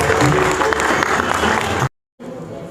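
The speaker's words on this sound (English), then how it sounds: "Give a big round of applause." Audience applause at an office farewell function for a refinery head, dense sustained clapping filling the room, then a brief cut to silence before quieter clapping and a murmuring crowd resume.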